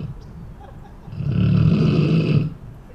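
A voice imitates a loud, rumbling snore from a woman asleep in the front row of a seniors' comedy show, one long swelling snort lasting about a second and a half over room murmur.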